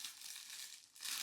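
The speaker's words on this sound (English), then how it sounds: "I know there's like a little sticker somewhere on here that I can peel open" A sticker on flannel shirt packaging peels open with a soft, continuous crinkling rasp, faint and close, briefly easing before a louder crackle of plastic at the end.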